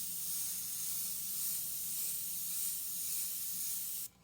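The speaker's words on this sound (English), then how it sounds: "You can start to see the chrome yellow start to happen as you spray this color." Spray gun laying chrome yellow paint onto a Mustang, a steady close hiss running unbroken for about four seconds before cutting off.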